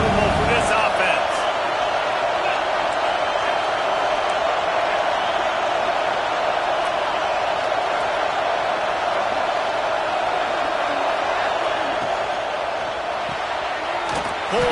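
Steady stadium crowd roar from a College Football 26 video game runs throughout, loud and constant, with commentators talking over it.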